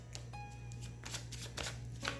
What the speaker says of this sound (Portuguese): porque eu ainda estou baralhando